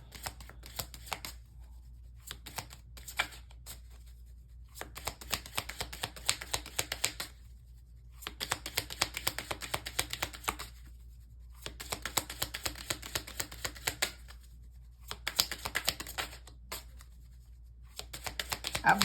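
Tarot cards shuffled and drawn in quiet bursts: soft riffling and flicking in several clusters separated by brief pauses, faint and close.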